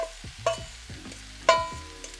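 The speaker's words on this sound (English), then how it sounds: "So we've been sauteing our frozen veggies here for right about 5 or 10 minutes" Frozen vegetables sauté in a pan on high heat, a low background sizzle broken by a few sharp, ringing clinks and scrapes of a utensil against the pan.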